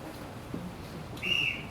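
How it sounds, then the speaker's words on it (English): A sea lion at a zoo blowing a whistle-like tone, a brief high clear note near the end rising over a steady, noisy outdoor background. "Huey is the only sea lion out of our 4 that does do whistle blowing behavior."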